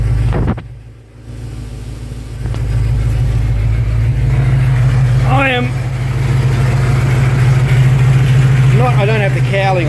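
A Buick engine with an overheating issue idles at a steady, loud low rumble while warming up, and someone talks over it now and then.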